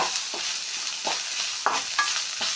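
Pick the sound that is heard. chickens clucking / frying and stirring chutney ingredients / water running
frying and stirring chutney ingredients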